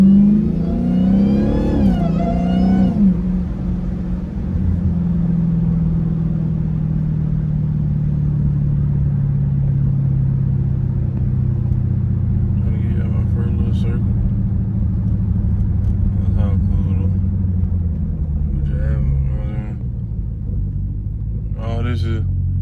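A Hellcat car's engine rumbles and revs steadily while it slides in circles through a neighborhood street, a loud continuous roar close by with a brief voice near the start.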